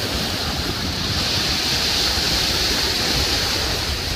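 Heavy surf pounds a pebble shore on Manila Bay in a dense, continuous roar of crashing water and hiss, loud and close, with no one speaking.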